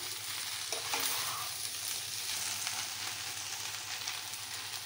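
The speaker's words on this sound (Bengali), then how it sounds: "এবার ধনে পাতা কুচি দিয়ে দেব, আবার নেড়ে দেব সব যেন ভালো করে মিশে যায়" Soybean pulao being stirred in a pan with chopped coriander, giving a steady scraping and soft sizzle that runs close and continuous throughout, with no voices.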